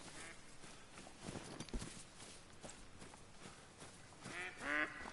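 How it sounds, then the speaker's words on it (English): Ducks quack in a marshy hunting area in The Hunter: Call of the Wild video game, with scattered irregular calls over soft rustling and footstep-like thumps, growing louder near the end. "Shut up, ducks."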